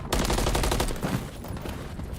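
Rapid automatic gunfire crackles in a Call of Duty esports match, a dense, loud string of shots filling the whole moment with no pause and no voice over it.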